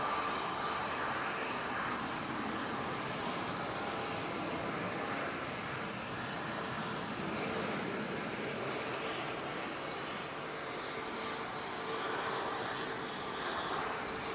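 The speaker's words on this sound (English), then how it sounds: "Just had a BizJet arrive." An Embraer Phenom business jet arrives, giving a continuous, even engine rush that stays fairly loud and unchanged for the whole stretch, with no speech.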